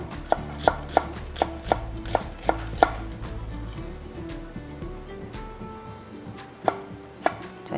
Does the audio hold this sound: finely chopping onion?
yes